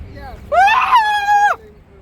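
A single loud, drawn-out shout from one voice, close by, lasting about a second before it cuts off.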